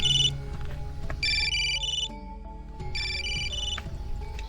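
A mobile phone ringtone for an incoming call plays a bright repeating melodic phrase in several bursts, clear and fairly close, with low background hum and no talking over it.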